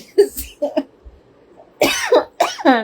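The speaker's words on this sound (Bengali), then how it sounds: "কাশি এখনো ঠিক আছে" Several close, loud coughs come in short bursts with pauses between them.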